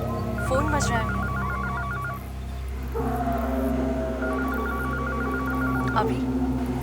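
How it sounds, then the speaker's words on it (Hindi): A telephone rings in two repeated electronic trilling bursts in an indoor scene of a Hindi horror drama. People talk throughout, and the rings sit clearly over the voices. "तुम्हारा फोन बज रहा है।"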